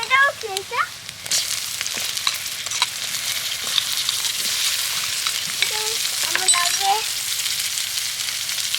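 Onion, ginger, garlic, green chilli and chopped tomato fry in a pan with a steady broadband sizzle that holds throughout, with soft stirring knocks and a few faint voice-like tones near the start and end.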